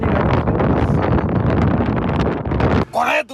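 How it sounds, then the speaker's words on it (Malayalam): Strong wind roars and buffets a microphone outdoors beside a vehicle about to set off toward Turkey, a dense, loud rushing that persists throughout before briefly dropping near the end. "അസാമാന്യ കാറ്റ്."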